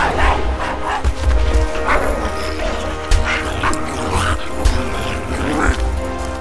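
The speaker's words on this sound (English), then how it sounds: "Dogs!" Dogs bark in the video game The First Templar, several loud yaps and yelps in bursts over a rumbling game soundscape.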